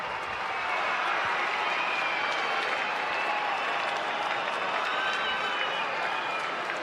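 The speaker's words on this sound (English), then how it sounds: "Crowd on their feet." Baseball stadium crowd on their feet cheering and applauding at an Angels–Cardinals game as the batter faces a 1-2 count with two strikes, a steady, dense roar of claps and shouts holding at full level throughout.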